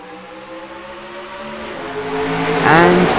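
Race car engines in NASCAR Racing 2003 at Las Vegas Speedway, a steady droning pack of engines rising in pitch and volume as the field accelerates at the start.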